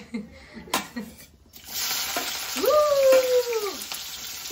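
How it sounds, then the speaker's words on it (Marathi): Onion hitting hot oil with popping mustard seeds while cooking a jackfruit vegetable dish, a loud steady sizzle rising after a few earlier knocks and clatters. "आता कांदा परतून घ्यायचा"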